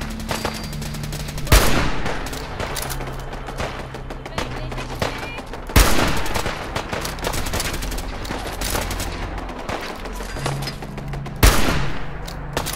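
An automated gun turret firing in Fallout 4: bursts of rapid, loud automatic gunfire with sharp heavy blasts at intervals, over a sustained musical backdrop.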